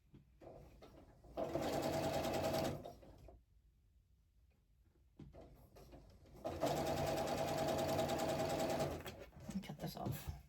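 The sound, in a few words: sewing machine stitching quilt 9-patches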